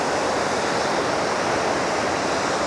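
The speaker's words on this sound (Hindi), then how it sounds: "ये डैम बना रखा है, इससे पानी छोड़ते हैं फिर ऐसा हो जाता है।" Water released from a dam in Vietnam, seen from a bridge, rushes in a loud, dense, unbroken roar with no pauses or voices.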